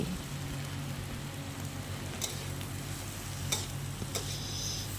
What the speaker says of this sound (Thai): ผัดบวบกับไข่ให้เข้ากันนะคะ